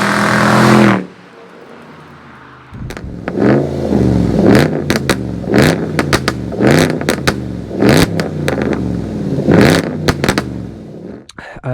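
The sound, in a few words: Range Rover Sport SC revving with cats removed, straight piped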